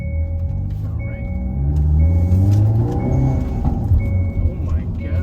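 A Hyundai Elantra N on a closed course in Mexico, heard from inside the cabin: a steady low engine and exhaust drone with burbling undertones, joined by brief high electronic beeps, while people talk over it.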